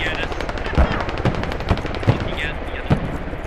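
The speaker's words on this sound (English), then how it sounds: "they're slightly angry I'm shooting them with my AK" Rapid bursts of AK rifle fire in the video game Squad crack in an uneven rhythm, loud and close, with a voice talking intermittently over the shots.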